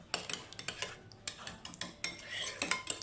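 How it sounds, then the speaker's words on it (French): A utensil stirs homemade mayonnaise salad sauce in a bowl or dish, giving a run of close, quick clinks and scrapes against the container, fairly soft and without talk. "On mélange le tout."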